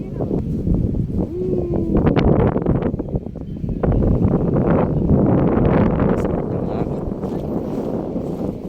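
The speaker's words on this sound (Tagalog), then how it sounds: "Lakas ng hangin. Kaya kung maririnig sa background, lakas." Strong wind roars and buffets steadily across the microphone on a hilltop, a heavy low rumble that never lets up, with a voice talking faintly underneath.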